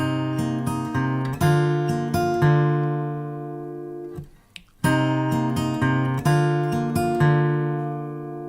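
An acoustic guitar plays a short plucked melody with sustained ringing notes, pausing briefly midway before the phrase repeats.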